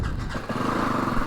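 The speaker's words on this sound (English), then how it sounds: "Pretty sure the bike will start even with all this stuff unplugged." A motorcycle fitted with a rally tower build starts up in neutral, turning over briefly and then settling into a loud, steady idle that stays close and fills the moment alone.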